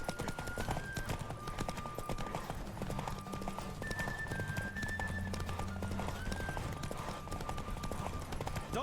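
Horse galloping in The Witcher 3: Wild Hunt, a rapid steady clip-clop of hooves running continuously with tonal game music underneath, close and even in level.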